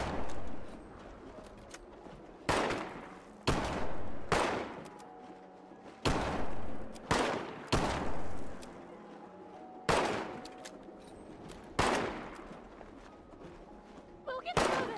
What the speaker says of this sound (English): I join in the madness, shooting my own gun at the whatever.